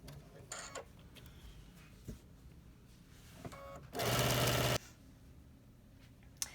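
Sewing machine stitching around the edges of a quilt block at a quarter-inch seam, a short close mechanical whirring burst of under a second, with quieter handling noises around it.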